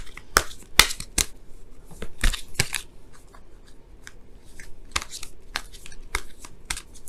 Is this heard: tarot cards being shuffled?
yes